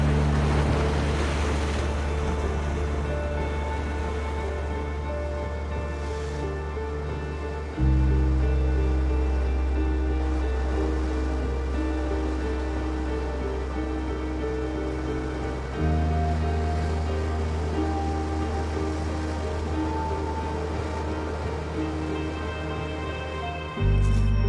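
Ocean waves washing against the rocky Maine coast, a continuous roar of surf with swells rising every few seconds, loud and close with no voices.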